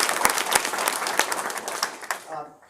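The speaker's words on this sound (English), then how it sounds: "Can we have a round of applause for this?" Applause from a forum audience for a panel of speakers, a dense patter of clapping with a few sharp nearby claps, fading out toward the end.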